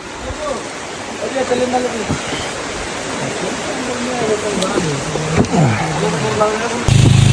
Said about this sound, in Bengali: ব্যাপক বৃষ্টি হচ্ছে